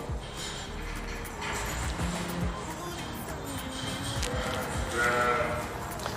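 Tailless sheep on a farm in Israel bleat nearby over a steady outdoor background, with a few calls rising above the murmur of the flock.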